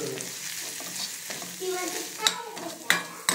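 Finely chopped fresh coriander and turmeric hit hot tempering oil in a home kitchen, giving a steady sizzle under stirring scrapes, with a few sharp utensil clinks near the end.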